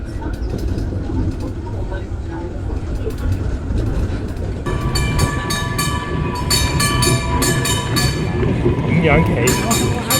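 Istanbul's historic tram, a heritage streetcar like San Francisco's ding-ding cars, rumbles and clatters along its rails with rising metallic squeals and ringing tones, while voices talk nearby.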